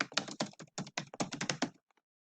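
Rapid bursts of typing on a computer keyboard, close and crisp, with quick irregular keystrokes for nearly two seconds before stopping into silence.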